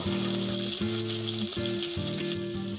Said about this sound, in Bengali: কড়াইতে তেল গরম করে মাছগুলো ভেজে নেব